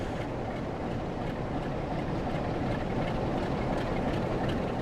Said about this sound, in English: That's the train going through here.